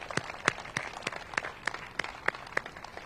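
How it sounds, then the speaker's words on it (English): Scattered applause from a small crowd at a community gathering marking a new Lidl grocery store opening in Southeast DC, with individual claps popping out distinctly in a steady, moderately close burst. "let's give her and the community a round of applause for that"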